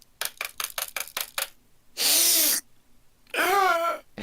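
A cat meowing twice in the background, two drawn-out wavering calls following a quick burst of clicking taps, fairly clear and close in an otherwise quiet room.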